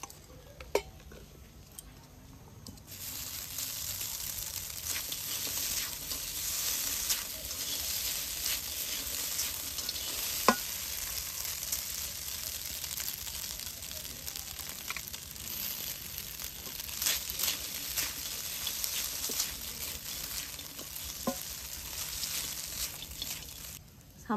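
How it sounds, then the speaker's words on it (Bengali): Vermicelli with peanuts being stirred in a pan for savory namkeen upma, soft scraping and gentle sizzling at low level with occasional sharp utensil taps against the pan, quiet and continuous. "সামাইটা দিয়ে দু একবার নাড়াচাড়া করেছি"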